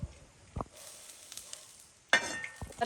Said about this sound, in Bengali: বন্ধুরা কড়াই গরম হয়ে গেছে আমি তেল দিয়ে দিচ্ছি বেগুন ভাজার জন্যে